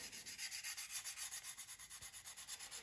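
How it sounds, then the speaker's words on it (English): Steady rhythmic rubbing of 600 grit sandpaper over a Tamiya 1/48 F4U-1A Corsair model surface wetted with isopropyl alcohol, close and fairly quiet, with even back-and-forth strokes and no voices. "I've got some 600 grit sandpaper"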